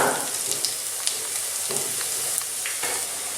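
Water spinach fritters fry in hot oil with a continuous close sizzle, broken by sharp crackles and small pops as the batter cooks.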